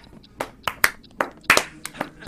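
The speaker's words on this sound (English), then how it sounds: "Let us all give him a slow clap." Slow clapping during a Rayman 2 game commentary: about eight sharp, evenly spaced hand claps at a deliberate pace, close and clear with no speech.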